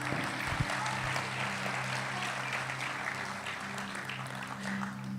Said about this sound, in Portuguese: Pode recebê-los todos com uma salva de palmas